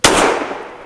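A Fusion Firearms XF Pro pistol fires a single S&B 150-grain subsonic round, one loud sharp report with a short echoing decay, close by and alone.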